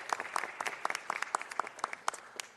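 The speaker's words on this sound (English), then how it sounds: "Big round of applause for our star athletes from Belmont High School." Audience applause at a city council meeting honoring Belmont High School girls' championship athletes, a steady patter of many hands clapping at moderate level, with distinct sharp claps standing out from the crowd.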